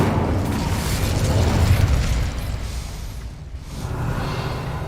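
A fire spell is cast in the Hogwarts Legacy video game, a roaring burst of flame and rumble that holds steady for about two seconds, dips, then swells again.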